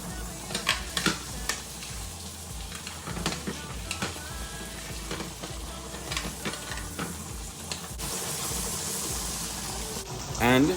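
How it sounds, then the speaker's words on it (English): Salmon sizzles in a pan of rosemary and garlic butter sauce as a spoon scrapes and bastes it, steady frying hiss with clinks of metal, and a voice speaks over it briefly. "Now I'm gonna go ahead and spoon feed my garlic butter sauce"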